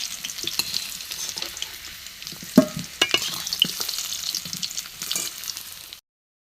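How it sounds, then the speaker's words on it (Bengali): Potatoes fry in hot oil in a pan on a wood stove, giving a steady close crackling sizzle with a few sharper pops and stirring scrapes, then cutting off abruptly. "আলুটা আমি একটু ভালো করে ভেজে নেব"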